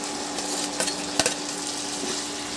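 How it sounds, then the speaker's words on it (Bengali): Fried potato and cauliflower are stirred into a frying spice paste, with a steady sizzle in the pan broken by a few sharp scrapes and clinks of the spoon, with no voices. "মশলার মধ্যে দিয়ে ভালো করে কষে নেব।"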